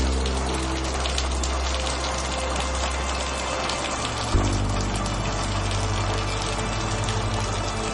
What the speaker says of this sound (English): it's pouring rain outside